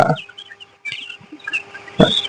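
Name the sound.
chickens clucking on a poultry farm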